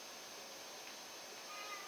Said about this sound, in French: Donc, un petit chat.